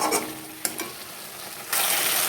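Paneer drops into a pan of sizzling spice paste for a vegetarian paneer masala, giving a steady close frying hiss with a couple of soft clatters, then a sudden louder, brighter sizzle as the pieces hit the hot oil. No talking.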